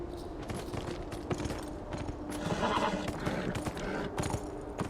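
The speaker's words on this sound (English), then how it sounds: "you ride horses like you drive motorcycles" Horse neighs and clip-clopping hooves on a pasture in the video game Beyond: Two Souls, a loud whinny over rhythmic hoofbeats, with faint background game sound.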